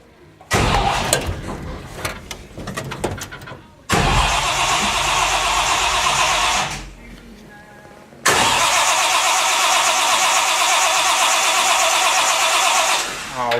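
A 1957 Chevy custom V8 with twin four-barrel carburetors and no choke cranks in a cold start, catches briefly, dies, then cranks again and settles into a loud, steady running roar.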